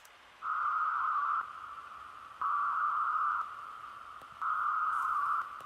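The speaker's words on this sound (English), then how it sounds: "We'll give it some reverb from Valhalla Room, my favorite reverb plugin." Three evenly spaced sustained tones ring out through the Valhalla Room reverb plugin on a field recording, each about a second long with a soft reverberant tail, over a faint background hiss.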